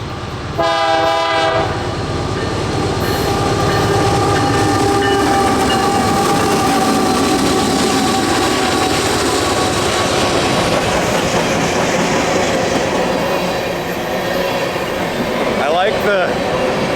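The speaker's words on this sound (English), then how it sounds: "sounds like there's a whole train coming" A train rumbles past nearby with a sustained, loud roar, a horn blast near the start and steady rail clatter throughout.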